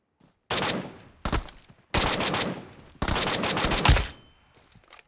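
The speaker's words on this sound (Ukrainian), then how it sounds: "слухай, як вона буде зараз стріляти" Several bursts of rapid automatic gunfire, each lasting about a second, separated by brief pauses, loud and close.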